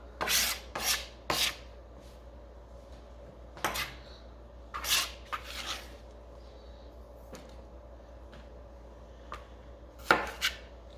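A knife cuts the seeds out of a spicy pepper on a cutting board for mushroom philly cheese steak sandwiches, giving sharp, separate chopping taps in uneven bursts with quiet gaps between them.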